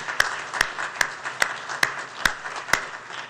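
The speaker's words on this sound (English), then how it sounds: "I hope you'll join me in a round of applause thanking them for participating." At a mayoral candidates forum in Irvine, sparse clapping sounds as about seven sharp, evenly spaced claps, like a single pair of hands in a quiet room, over faint background noise.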